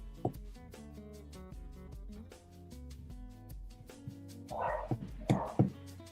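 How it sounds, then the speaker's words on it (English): A pet dog barks a few times near the end, sharp bursts rising over steady music that fills the background throughout, with a softer yelp or two mixed in. "I don't know if you could hear that. Was my dog's barking."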